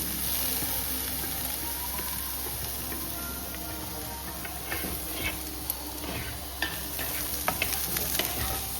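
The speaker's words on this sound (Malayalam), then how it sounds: "ഇനി മാറ്റി വെച്ച തേങ്ങയും കൂടി ആഡ് ചെയ്ത് നല്ലോണം ഒരു മീഡിയം ഫ്ലെയിമിലിട്ട് വറുത്തെടുക്കണം" Grated coconut roasting on medium flame in a pan for Kerala erissery gives a steady close sizzle, with scraping and clattering stirs growing more frequent toward the end.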